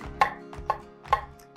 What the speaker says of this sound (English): We're also going to chop up our water chestnuts.